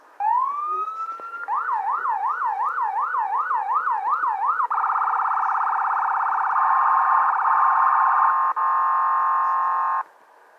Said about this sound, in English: Okay, so the siren and stuff